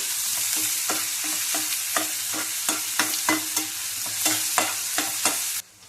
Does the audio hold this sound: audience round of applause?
no